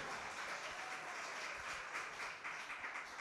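Audience applause for a student performer at a school of music's winter recital, a steady dense wash of many hands clapping that holds at an even loudness throughout.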